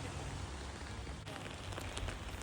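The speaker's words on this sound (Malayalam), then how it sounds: "ഇന്ന് നല്ലൊരു മഴയുള്ള ദിവസമായിരുന്നു. ചെടികളെല്ലാം നല്ല മഴയത്ത് എൻജോയ് ചെയ്യുകയാണ്." Steady rain falls on a home garden full of plants, a soft, even hiss of drops with a few closer patters and no voices.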